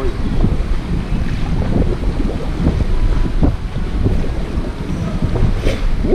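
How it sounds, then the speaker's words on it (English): Strong wind buffets the microphone at a pool in Myrtle Beach, a loud, steady low roar with gusty rumbling throughout and no talk. "it's really windy"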